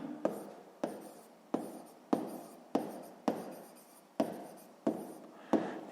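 A pen writes an answer to a sixth-grade math exercise in a series of about nine sharp scratchy strokes, each starting abruptly and fading, close to the microphone in a quiet room without speech.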